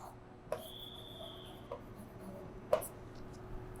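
Chalk or marker scratches on a board during an accounting lesson on financial statements, a few short faint strokes with sharper taps, heard alone in a quiet room with a steady low hum.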